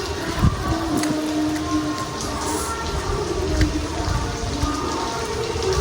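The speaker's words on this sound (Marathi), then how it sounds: "पाऊस बा पाऊस" Heavy rain pours steadily, a dense continuous hiss with occasional louder drops and thumps close by.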